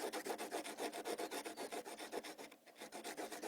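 Rapid rhythmic rasping strokes, close and steady, of a metal drill bit being sharpened back and forth on an abrasive surface, with a brief pause partway through.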